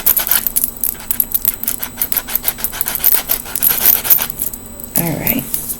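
A file roughing up Claire's press-on nails in quick, rhythmic back-and-forth rasping strokes, close and dry, with a brief pause and a small tap near the end.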